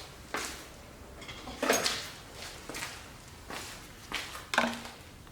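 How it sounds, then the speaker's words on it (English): Valley pan being pulled off a barn-find Pontiac Turbo 301 V8 engine, with several sharp metallic clanks and scrapes spaced a second or so apart, close and moderately loud, no talking. "let's pull the valley pan off too"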